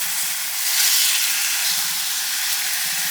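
Chicken pieces sizzle loudly in a frying pan on the stove, a steady, dense hiss of frying that holds evenly throughout with no talking.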